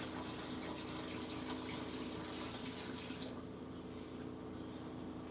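Water being poured into canning jars of potatoes, a continuous gushing stream that runs steadily then thins and eases toward the end, faint and somewhat distant, with no talking.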